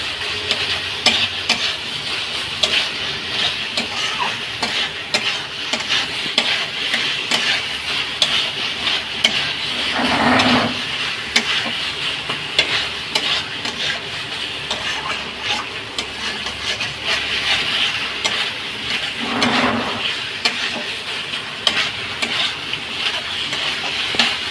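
A thick mash of bottle gourd peel is stirred continuously in a pan, the spoon scraping the bottom in a close, constant rhythm over a low sizzle, with two louder scrapes along the way and no talking.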